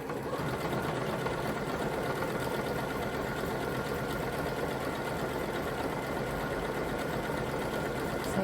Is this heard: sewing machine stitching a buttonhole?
yes